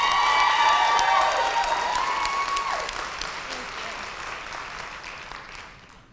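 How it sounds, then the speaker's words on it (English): Steady applause from a crowd at a board of education hearing, loud at first and gradually fading over several seconds. "give additional applause to this young lady"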